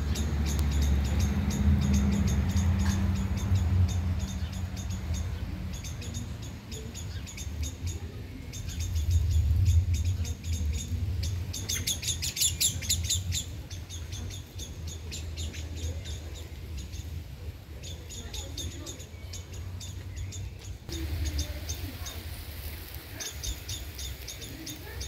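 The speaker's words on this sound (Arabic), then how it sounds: "عجبوني لوعال، يعني العصافير احنا في الجزائر نقولوا لوعال" Small birds chirp and tweet outdoors in Algeria, with dense high-pitched calls repeating across the whole stretch over a low background rumble.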